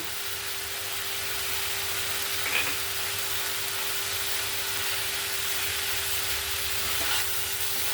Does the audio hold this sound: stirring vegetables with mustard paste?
yes